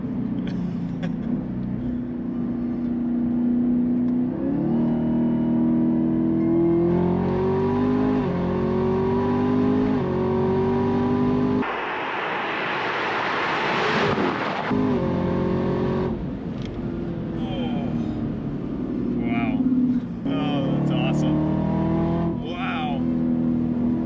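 A Camaro ZL1 engine revs and roars continuously, loud and close, heard from inside the car, swelling and dropping in pitch, with a harsher burst midway; people talk faintly underneath.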